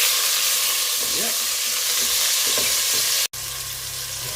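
Beef browning in lovely hot oil for braised beef in Irish stout, a steady loud sizzle and crackle throughout with a brief cut near the end, a single short spoken word over it.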